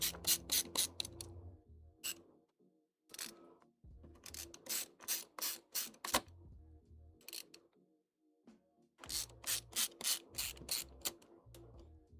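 Screws are driven back into a game console or PC with a small screwdriver, heard as close bursts of quick ratcheting clicks separated by short silences.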